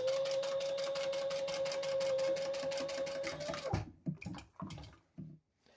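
A sewing machine stitches a custom Croc shoe in a steady, fast mechanical whir with an even buzzing hum, close by. It stops abruptly partway through, followed by a few scattered handling knocks.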